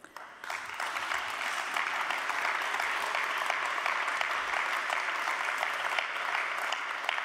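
Sustained audience applause fills a hall at a Berlin CDU state party convention, dense and steady from a large crowd after a brief quieter start, continuing evenly without any voice over it.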